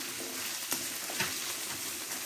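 Chicken and onion fry in a pan as the base for a seafood paella, giving a steady hiss of sizzling oil with a few sharp clicks of stirring and no speech.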